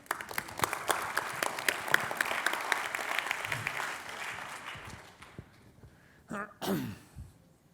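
An audience at a public science-and-cooking lecture claps in a scattered burst that fades out over several seconds. A few faint sounds and a brief breath or vocal noise follow in the quiet.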